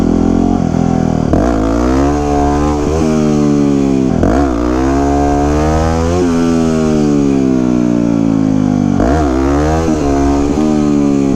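A 2009 Yamaha WR250X supermoto engine revs loud and close while lifting into wheelies, its pitch climbing in long sweeps and dropping off between throttle blips, several cycles in a row.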